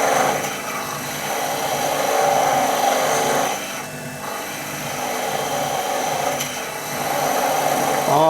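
Lathe chisel chattering against a thin wooden honey dipper as it turns, a steady rough scraping buzz that dips briefly partway through before resuming close and loud.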